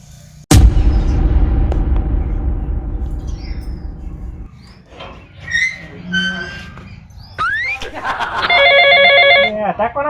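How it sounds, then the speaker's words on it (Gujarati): A phone gives a tonal electronic ring near the end of a noisy scene in a Gujarati comedy sketch, following a loud bang and clatter, with voices heard. "ફોન આવ્યા"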